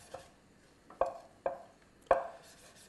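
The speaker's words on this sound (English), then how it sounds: "So just slice mushrooms through nice and thinly." A sharp knife slicing mushrooms thinly on a chopping board: four distinct crisp cuts, each ending in a knock on the board, spaced irregularly and close by with no talk.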